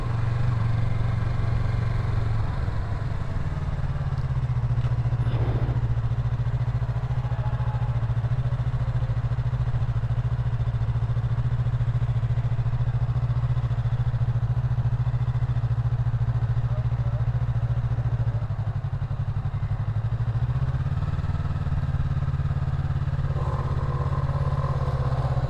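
A Yamaha MT03 motorcycle engine drones steadily at low speed, a continuous mid-pitched hum that dips briefly and then returns, with some wind rush and road noise over roughly twenty-five seconds.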